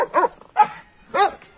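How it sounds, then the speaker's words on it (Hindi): A dog, in a Rottweiler and pit bull encounter, gives three sharp barks in quick succession, close and loud, with brief pauses between them. "देख लो भाई भौंक के दिखा रही है"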